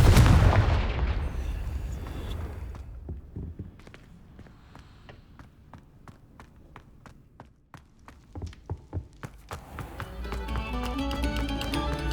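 A Confringo blasting spell goes off in the Hogwarts Legacy video game: a loud booming burst at the start fades into a run of sharp crackling pops and impacts, with rising synthetic whooshing tones near the end.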